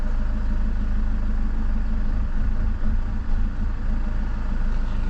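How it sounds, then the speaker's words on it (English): A BMW 520d with the M47 diesel engine idles roughly, giving a loud, steady low rumble close by with slight uneven wavers and no voices. "Or if you hear the engine,"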